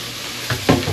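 Meat is stirred into bihon noodles frying with sliced cabbage, giving close scraping stir strokes over a steady sizzle in a short burst.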